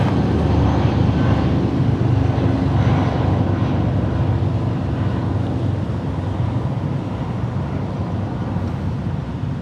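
United Boeing 777-200 jet departing LAX, a steady loud broadband roar of jet engines that holds throughout and eases slightly toward the end, with no talk.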